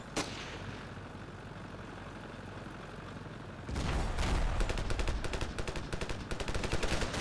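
AK rifle gunfire in the shooter game Ravenfield: after a stretch of low ambient rumble, a sudden loud burst of rapid automatic shots starts and keeps going, close, sharp and repeating in quick volleys.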